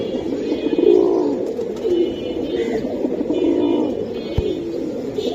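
Red pigeons at a pigeon sale coo steadily and close by, their low, throaty calls overlapping in a continuous soft murmur with no talking.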